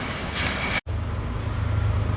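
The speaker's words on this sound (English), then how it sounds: "there goes train 40 Chicago." Train 40 rolls past at Commerce, a loud rumbling rush of railcars with a brief abrupt cut, followed by a continuing lower clatter and hum from the track.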